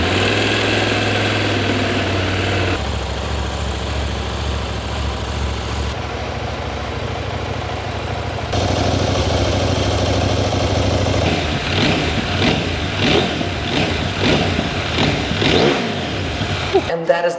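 A 2025 CFMOTO 800 MT-X adventure motorcycle, a 95 hp machine, fires up and settles into a steady idle, the engine rumble running loud and close with a few throttle blips and voices heard over it.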